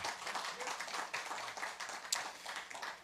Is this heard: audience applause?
yes